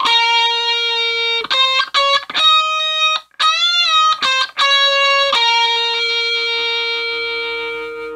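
A distorted electric guitar slowly plays a solo line from a song, with sustained single notes, short picked phrases and a bend, ringing out alone and fading at the end.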